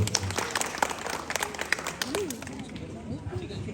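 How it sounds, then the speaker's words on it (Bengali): Applause from an audience at a Poila Baisakh New Year celebration in a Bagbazar housing apartment complex. A burst of clapping fills the first seconds, then thins as a voice starts talking over it. "এদের জন্য একটা হাততালি দিতে বলবো"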